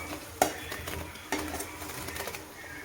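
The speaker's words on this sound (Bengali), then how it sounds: "এবার দেখো টকবক করে ফুটছে।" Thick curry sauce bubbles and pops softly in a pot as paneer koftas are added, with a couple of sharper clicks from the pan and no voices.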